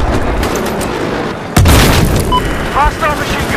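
A single heavy C4 explosion in Battlefield 4 lands as a sudden loud boom partway through, then rumbles on beneath ongoing battle noise and faint game voices.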